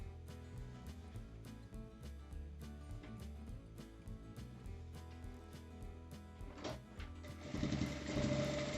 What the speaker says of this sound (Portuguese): Já passo uma costura também.